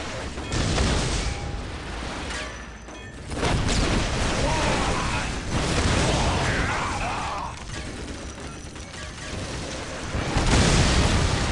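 Missile explosions from a Warhammer 40000 Dawn of War battle, several loud booming blasts and mechanical clatter coming in waves over a dense, noisy game soundscape.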